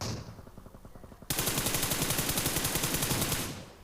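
Rapid automatic gunfire in PUBG Mobile on the Sanhok map, a sustained loud burst of evenly spaced shots after a quieter stretch of distant rattling fire, then fading at the end.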